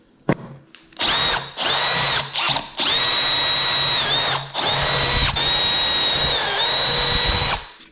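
A power drill punches bolt holes for a Nucanoe bow motor mount in several loud, close bursts, its high whining motor rising and briefly dropping between pushes.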